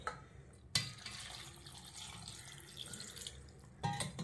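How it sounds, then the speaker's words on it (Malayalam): Water pours steadily into a pot of grapes while making grape juice, a close, continuous splashing stream with a sharper splash at the start and again near the end. "ഇതിനകത്തേക്ക് വെള്ളം ഒഴിക്കും"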